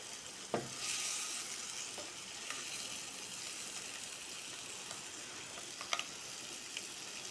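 Mint and coriander leaves fry in a pressure cooker for egg biryani with a soft, continuous sizzle. Occasional clicks and scrapes from stirring come through close by.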